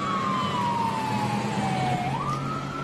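An ambulance siren wails steadily and loudly, its pitch sliding slowly down and then back up, heard from inside the vehicle over road rumble.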